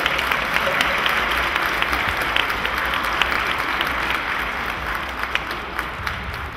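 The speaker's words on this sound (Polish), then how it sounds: "Oklaski dla drugiej świętej rodziny." Steady, sustained crowd applause at an outdoor Three Kings nativity procession in Miękinia, a dense continuous patter of many hands throughout with no talking over it.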